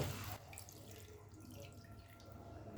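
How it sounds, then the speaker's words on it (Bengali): Tap water runs and splashes into a mixer jar as it is rinsed in a kitchen sink, then water is poured out, a close, steady gushing and trickling stream with no talking. "এবার মিক্সিং জারটা ধুয়ে দেড় কাপ পরিমাণ জল দিয়ে দেব"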